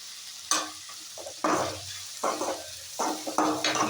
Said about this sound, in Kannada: ಇವಾಗ ಈರುಳ್ಳಿ ಸ್ವಲ್ಪ ಈ ತರ ಫ್ರೈ ಆಗಿದೆ ನೋಡಿ